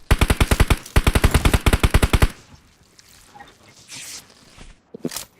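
Rapid automatic gunfire in a first-person shooter video game, two loud sustained bursts of closely spaced shots over about two seconds, followed by quieter scattered game sounds and a few faint thumps.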